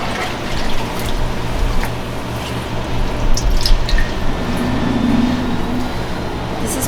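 Water runs steadily over the spout of a small 15-gallon ice cream vat pasteurizer during a sanitizer rinse, making a continuous close splashing hiss with faint drips and clinks.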